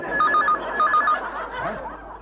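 A telephone bell rings in two quick bursts, loud and close, followed by a brief chuckle-like sound.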